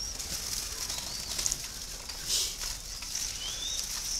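Young spotted doves being raised as chicks, soft cooing and faint chirps scattered over a quiet, hissy background, with a brief flutter of wings and low patter.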